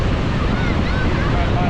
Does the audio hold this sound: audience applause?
no